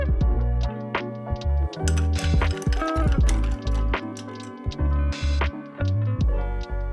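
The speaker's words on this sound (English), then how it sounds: "Next, we're gonna add some ice and stir." Ice stirred in a glass for a tequila and mezcal cocktail gives continuous close clinking and rattling with sharp glassy ticks over a steady, loud background hum, no talking.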